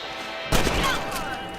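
One sharp gunshot in Red Dead Redemption, a sudden loud crack after a quiet moment, followed by a fading ring and a distant echo.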